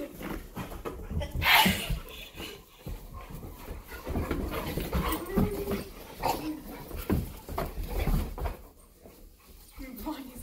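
Cane Corso puppies play indoors with panting, snuffling and small whimpers, close and lively, while a person talks and calls to them.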